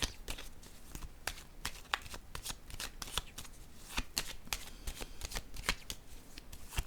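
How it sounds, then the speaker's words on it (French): Playing cards handled and laid down on a table, with close, crisp rapid flicks and slaps in a busy irregular stream, like cards being shuffled and set out. "je vais déposer une carte ici."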